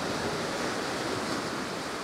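Ocean waves washing onto a beach on the Oregon coast, a steady, full broadband roar of surf with some wind, heard alone without talk.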